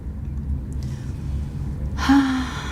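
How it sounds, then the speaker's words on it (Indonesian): A single audible inhale near the end of a guided meditation breathing exercise, a short airy breath drawn in over a low rumbling background hum. "Tarik napas dan lepaskan kelegaan."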